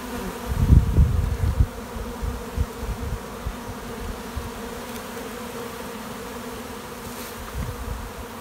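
Honey bees in an open hive during queen-rearing grafting give a continuous close buzzing hum. Thicker bursts of wingbeat come in the first two seconds.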